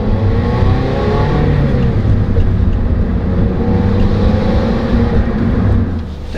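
Scion tC accelerates hard from a standstill in a 0 to 60 run, the engine roaring loudly and steadily as it climbs through the revs from inside the car, easing off just at the end.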